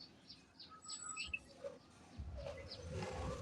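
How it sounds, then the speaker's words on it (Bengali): Birds chirp near a neem tree on a windy rooftop, a quick series of short high tweets followed by a softer call as gusting wind rumble builds underneath. "কিচিরমিচির পাখির ডাক আসছে"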